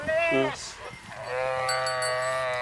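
A large ewe on a Punjabi sheep farm bleats loudly and close by: a short wavering call, then a long sustained bleat, with a faint bell clinking nearby.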